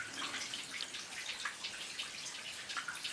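Water drips and flows inside an abandoned mine, a soft continuous trickle sprinkled with scattered droplet splashes, fairly faint and echoing, without any talk.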